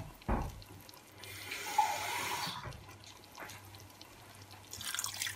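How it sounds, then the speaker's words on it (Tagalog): Water is poured into a simmering pot of oxtail stew, a soft splashing stream lasting about a second and a half, fairly close and quiet. "Lagyan natin ng konting tubig para mas sabaw ng konti."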